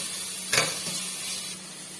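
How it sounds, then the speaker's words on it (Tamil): Tomatoes sauté in a pan with ginger and garlic for a vegetable kurma, giving a steady close sizzle and hiss, with one brief scrape of stirring near the start. "தக்காளி ஒரு 2 நிமிஷம் நல்லா வதங்கட்டும்."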